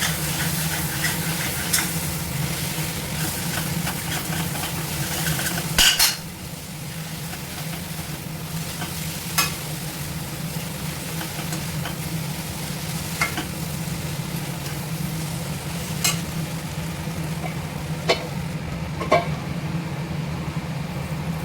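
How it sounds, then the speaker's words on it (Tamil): Okra fries in a pan with a continuous close sizzle, while a spoon stirs it with occasional scraping clicks and knocks across the whole stretch. "அப்படியே சைடில் வெண்டைக்காயும் கிளறி விட்டுக்கிட்டே இருங்க, இல்லைன்னா அடி பிடிச்சிடும்"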